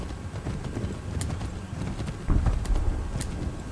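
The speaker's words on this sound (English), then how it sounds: "I can't even spur the horse." A horse's hooves clip-clop in the video game Assassin's Creed 3, with a brisk, steady run of close hoof strikes over a rushing ambient bed.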